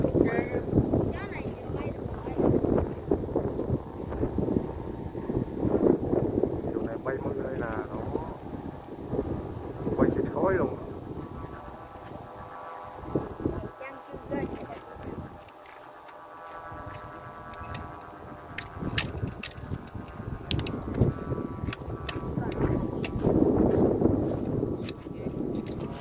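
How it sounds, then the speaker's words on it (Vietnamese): Outdoor wind gusts against the microphone while handmade Vietnamese flute kites and diều thửng kites are flown. The rumbling, patchy buffeting runs throughout under people chatting nearby. "Này gió không mạnh ha. Gió vừa vừa bay giờ chứ."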